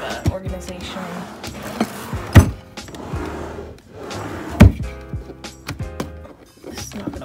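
Nightstand drawers in a bedroom slide open and shut, with two solid wooden thuds and softer scraping and rummaging between them, close and fairly loud with no talking.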